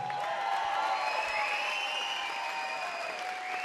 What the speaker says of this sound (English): Guys, give yourself a round of applause.